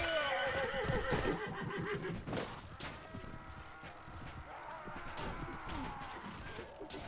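Horses in Mount and Blade neighing loudly with shrill whinnies over pounding hoofbeats and battle crashes, a chaotic close cavalry charge with several overlapping calls.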